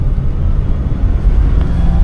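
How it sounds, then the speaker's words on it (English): A 1970 Lincoln Continental's engine drones steadily with a low rumble as the car cruises along the road, the sound continuous and fairly loud, with no clear surge of acceleration standing out. "I'll give it a little bit of gas once I get by this car."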